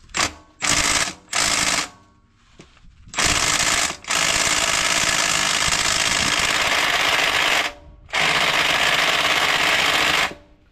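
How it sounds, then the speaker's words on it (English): An 800 foot-pound impact wrench hammering on a stuck bolt of a RAM TRX during a differential drop install, several short bursts followed by long loud rattling runs, close up, with brief pauses between. "we're resorting to the 800 foot pound mega gun here to see if I can get this thing off."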